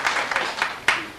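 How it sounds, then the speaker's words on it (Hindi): An audience at an environment and health symposium claps for a child, a short burst of scattered, uneven hand claps with a few sharper, louder ones standing out near the end. "और हमारी तालियां इस बच्चे के लिए"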